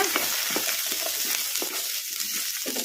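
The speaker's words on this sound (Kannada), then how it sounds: "ಉಳ್ಳಾಗಡ್ಡಿ ಲೈಟ್ ಬ್ರೌನ್ ಕಲರ್ ಬರೋವರೆಗೂ ಫ್ರೈ ಮಾಡ್ಕೊಂಬಿಡೋಣ." Chopped onions frying in hot oil over medium-high heat hiss loudly and continuously, with quick clacks of a spatula stirring them, heard up close and without speech.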